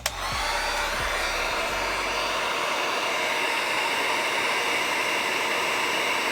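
Heat gun shrinking heat shrink tubing over wire connectors during a sprinter van conversion, a steady loud blowing roar that starts abruptly and holds without pause, no voices.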